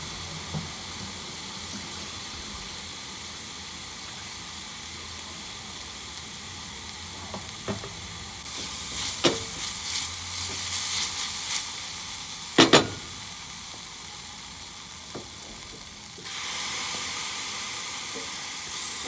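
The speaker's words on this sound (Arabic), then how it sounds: "ونقلب كويس قوي لحد ما البصلة بتاعتنا تصفر" Onions sizzle and fry steadily in a pan while a spoon stirs them, with scraping clinks and a brief louder clatter midway, close and continuous with no speech.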